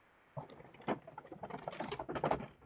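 Hail or storm pattering outside, irregular clicky taps building in density, fairly faint and close-miked.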